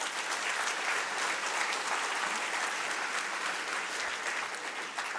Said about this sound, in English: So I think we should give ourselves a round of applause for that.